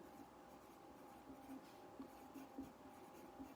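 Pen or pencil writing by hand on paper during a math lesson, a steady soft scratching with light rhythmic strokes, close and quiet throughout with no talk.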